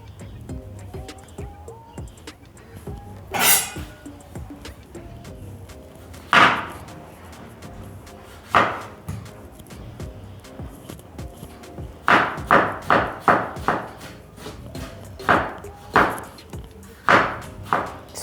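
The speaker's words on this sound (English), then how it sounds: "So I'm roughly chopping up my tomatoes and 1 onion" A knife chops roughly through tomatoes and an onion on a board, with scattered single thuds early on and then a quicker run of sharp, close blows, separated by short quiet stretches.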